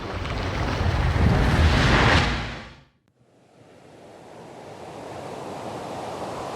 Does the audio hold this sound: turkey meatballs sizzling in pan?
no